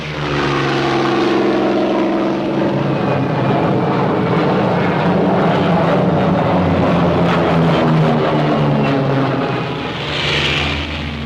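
Twin 2,000-horsepower propeller engines of a P-61 Black Widow fighter roar continuously with a throbbing, beating drone, loud and close, rising slightly as the plane passes.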